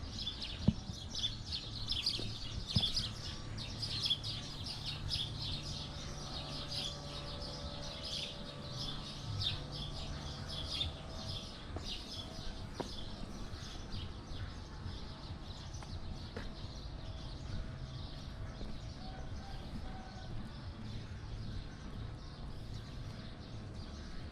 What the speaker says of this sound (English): I could almost only hear the sound of birds and insects.